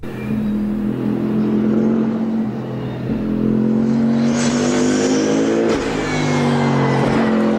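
A Toyota GR GT3 race car engine revs hard and climbs in pitch, droning loudly and steadily throughout with rising and falling throttle.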